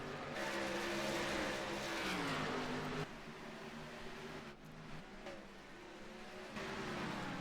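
Race cars in an Xfinity Series sim racing game run side by side, with continuous loud engine drone and rising, shifting pitch as they wheel around the track, steady throughout with no talk.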